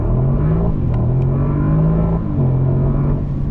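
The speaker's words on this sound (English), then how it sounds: "Let's try to accelerate from 0 to almost 100," Mercedes-Maybach SL 680 with a V8 accelerating hard from a standstill toward 100, its engine note rising loud and close in one continuous pull with a brief dip at a gear change.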